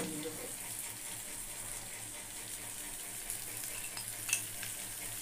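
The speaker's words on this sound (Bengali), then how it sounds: "জল দিয়ে দিতে হবে।" Water is poured into a light wok of prawn malai curry, giving a quiet, steady watery hiss and bubbling with a small splash near the end.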